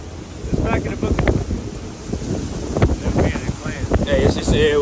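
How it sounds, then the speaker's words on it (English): Strong gusts buffet an outdoor microphone, a rough roaring rush that swells and fades in uneven bursts, with people talking faintly underneath. "it was projected on the news to be ridiculously windy"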